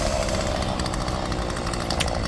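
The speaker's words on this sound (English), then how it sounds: "When that chainsaw started up" A chainsaw runs loud and close, a steady high buzzing drone that holds throughout without pause.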